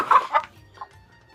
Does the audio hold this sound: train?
no